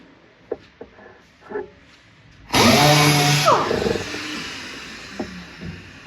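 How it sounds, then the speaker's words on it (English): After a few faint knocks and clatters, a power sander abruptly starts on a cabinet with 80 grit sandpaper, giving a loud, close, whirring grind that wavers in pitch as it works, then eases off. "Let me try to sand on here for a second and see what it does."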